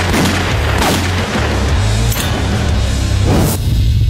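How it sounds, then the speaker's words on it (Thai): Heavy booming blasts and dense crackling fire fill the scene, a loud continuous barrage with a few sharper bursts standing out. "เฮ้ยระเบิด"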